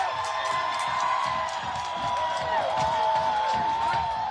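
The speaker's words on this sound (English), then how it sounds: "I just wanted you to hear the sound of people cheering as the 3rd precinct appears to be on fire at this time." Protesters cheer and whoop outside the burning 3rd police precinct in Minneapolis, a steady crowd roar with shouts and whistles carrying from a distance.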